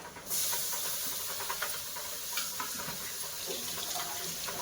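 Tomatoes drop onto roasted onions in a hot pan and set off a sudden, steady hissing sizzle that stays close and fairly loud throughout.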